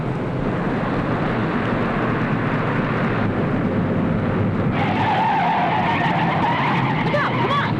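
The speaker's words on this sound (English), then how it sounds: "That's Flame's car." A car speeds along and skids hard, tyres scraping across the road in a loud, sustained rush of engine and friction noise that intensifies toward the end.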